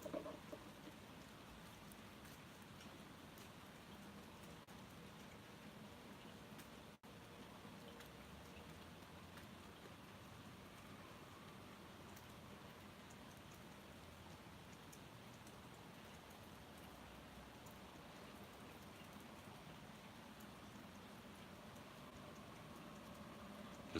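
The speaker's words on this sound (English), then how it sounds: "Just love the sound of rain." Steady rain falls outdoors, a continuous soft hiss of drops on surfaces that holds even and unbroken for the whole stretch, fairly quiet with no voices.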